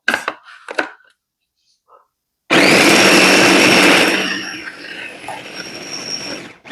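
A food processor whirs loudly through basil leaves and salt, a steady motor roar with chopping clatter that starts abruptly, holds for about two seconds, then fades lower, after a brief voice beforehand.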